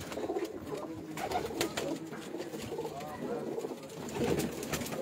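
Pigeons on a Mirpur rooftop coo softly and repeatedly nearby in low, rolling calls, with faint speech in the background.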